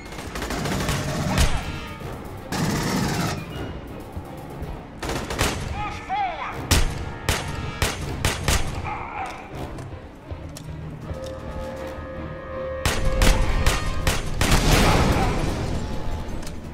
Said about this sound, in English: A second volley of missiles just struck the Sephora.